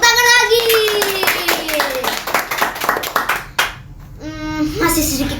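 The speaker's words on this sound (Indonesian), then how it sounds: "kita tepuk tangan lagi." A studio audience of children and adults claps hands in quick, uneven bursts that fade out, while a host speaks over them.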